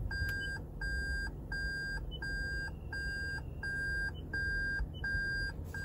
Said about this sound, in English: And this beep sound actually becomes a little bit irritating at some times.